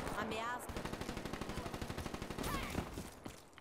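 Rapid automatic gunfire from a weapon being tried out in Black Ops 3, a steady burst of sharp shots for about two seconds, then a few scattered shots, with a voice talking faintly at the start.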